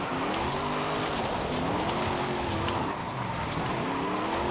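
A 2018 TVR Griffith S1-900 with a rear-drive drift tune revs hard through a racing video game drift, its engine note wavering continuously under steady tire and road noise, with no music or voices.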